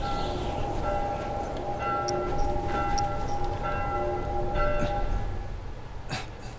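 Church bells toll in The Last of Us during a snowstorm level, sustained ringing tones that hang steadily in the air over a muffled background, with a few brighter strikes breaking through.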